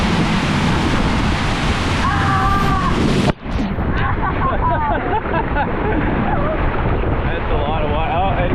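At a water park, a loud rushing wash of water pours and splashes over riders, with a sudden heavy splash midway and excited voices and crowd noise mixed throughout.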